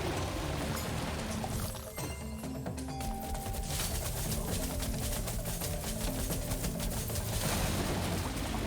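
Rapid gunfire from a player's weapon aimed at a giant crab boss in the game Trifox, a dense continuous stream of shots with crashing impacts over game music, loud and steady throughout.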